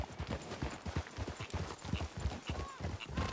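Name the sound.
horses walking, hooves clip-clopping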